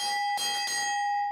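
A brass bar bell hangs in the I Bar at Naval Air Station North Island. Two or three bright, ringing strikes sound close by, and a long metallic tone with steady overtones lingers and slowly fades.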